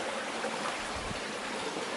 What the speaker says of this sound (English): Here is Sugarloaf Creek.